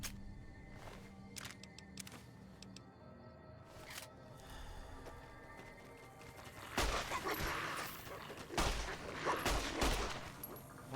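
Gunfire in the video game Fallout New Vegas, a few sharp isolated shots early, then a denser burst of rapid, louder firing in the second half.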